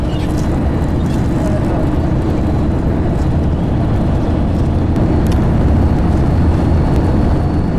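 Car rolling in reverse on its own with the engine off at Wadi Jinn near Madinah, heard from inside as a loud, steady rumble of tyres and road noise buffeted by wind, with no clear speech.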